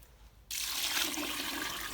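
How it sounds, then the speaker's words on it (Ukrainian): Five litres of room-temperature boiled water poured into a homemade wine mash of fruit juice; after a quiet moment a steady, close rushing gush of liquid starts abruptly and continues without pause. "Ось додаю 5 літрів води"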